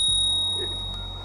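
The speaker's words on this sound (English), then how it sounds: "and it has a sweet bell." A single clear ring of a bell on an electric scooter, a bright ping close by that decays slowly over about a second, with no talking.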